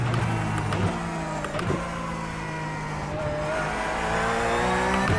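A race car in a driving simulator game on a triple-screen motion rig: the engine drones loudly and continuously, pitch rising and falling through gear changes, with faint tire squeal as the rear slides.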